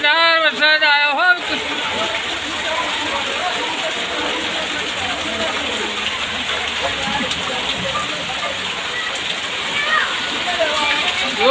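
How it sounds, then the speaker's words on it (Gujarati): Heavy monsoon rain pours down outside a house in Patan, Gujarat, and water floods the yard. The roar is loud and steady after a brief voice at the start. "જોરદાર વરસાદ આવ્યો હો."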